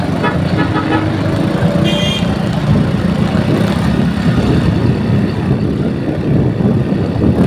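Road traffic rumbles steadily nearby while car horns toot in several short bursts early on, then the engine and roadway noise carry on without pause.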